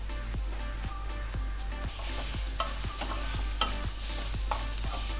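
Ground masala paste with salt is stirred and sautéed in a pan for radish sambar. A steady sizzle runs throughout under regular, evenly spaced scraping strokes of a spoon, close and moderately loud, with no talking.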